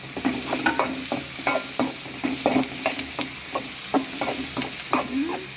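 Tomato being stirred into chopped parotta for kothu parotta in a pan, with repeated scraping stir strokes in a steady rhythm over a soft sizzle, close and fairly loud, with no talking.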